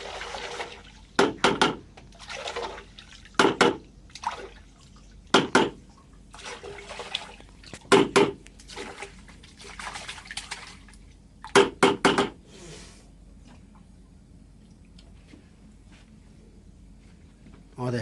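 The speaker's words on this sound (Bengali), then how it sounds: "স্টেনারটাকে ধোয়া হচ্ছে, পরিষ্কার করা হচ্ছে।" Water splashes in repeated short, loud bursts as a chiller AC condenser unit's strainer is washed during servicing, with quiet pauses and background talk between sprays.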